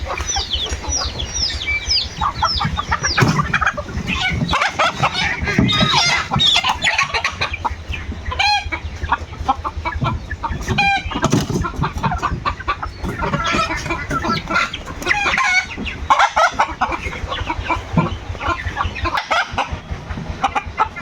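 Domestic desi chickens cluck, squawk and crow loudly and continuously while someone tries to catch them, the flock close by with sharp agitated calls overlapping throughout.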